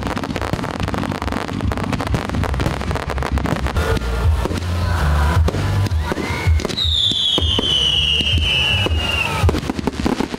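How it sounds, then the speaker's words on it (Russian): Festive fireworks salute at a town celebration in Muravlenko, rapid crackling bursts and pops, with a whistling rocket rising partway through, dense and continuous at moderate distance. "Завершил программу праздничный салют."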